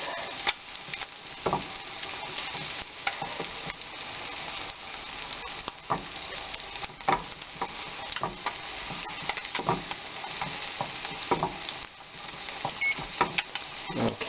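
A sole fillet fries in butter in a pan with a continuous close sizzle, broken by repeated soft knocks and scrapes as the pan is tilted and handled; moderately loud with no talking.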